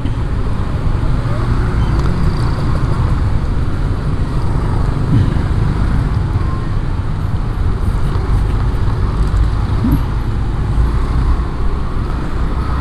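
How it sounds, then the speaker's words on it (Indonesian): Road traffic in a jam, heard from a motorcycle, makes a constant dense rumble of idling and crawling engines with a broad, even roar and no clear breaks. "Aduh macet."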